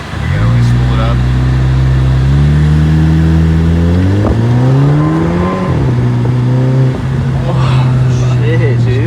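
A Volkswagen engine with an aftermarket boost setup revs hard and spools up, its loud, close drone climbing steadily in pitch, dipping briefly and holding high again.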